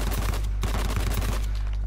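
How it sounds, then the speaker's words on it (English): Rapid, close gunfire from a weapon in Uncharted 4 Bounty Hunter multiplayer forms a dense, continuous volley of shots over a low, steady background hum. "Why does this gun sound different to the last time I used it?"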